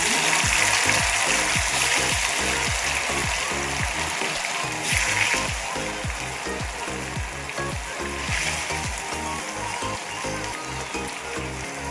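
Chicken 65 pieces frying in hot oil in a kadai, a dense continuous sizzle and crackle that holds loud and close throughout, with no voices.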